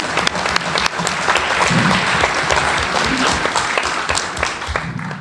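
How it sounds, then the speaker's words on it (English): Loud audience applause for teachers and principals at a city council meeting in Villa Hills, with crisp individual claps standing out from the crowd and a faint voice underneath. "So if we could give the teachers and the principals a round of applause."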